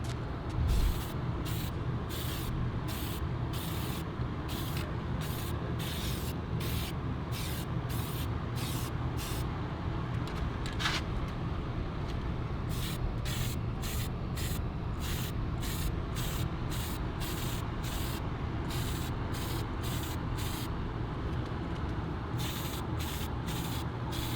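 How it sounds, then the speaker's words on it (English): Aerosol spray paint hisses steadily while coating race car bumpers, a continuous loud close spray with rhythmic brief interruptions as the nozzle is pulsed, no talk. "So I got my Silhouette paint and I'm gonna paint these bumpers nice again"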